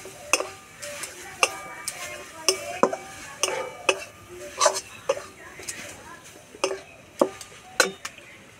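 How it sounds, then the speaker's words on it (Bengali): A spoon stirs ash gourd sweet in a pan, with milk powder and cardamom added. It gives irregular clinks and scrapes against the metal, moderately close, while a voice talks intermittently. "আর একটু নেড়ে নেব"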